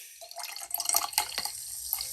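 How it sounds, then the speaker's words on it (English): Soda poured from a can into a small glass, a short splashing, fizzing liquid pour with bubbly crackle, close and clear, no talk. "Take your second can of your favorite soda, depending on the size of your fancy little glass you got, and pour it into your glass again."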